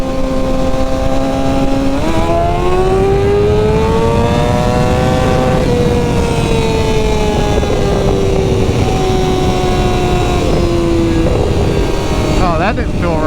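Kawasaki ZX motorcycle after crash repairs, its engine rising in a loud, close whine through the gears toward the rev limiter, pitch climbing and sagging over several seconds with a final short burst.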